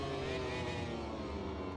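A Yamaha Aerox scooter engine buzzes loud and steady at high revs during a race, one continuous sustained drone with no pause.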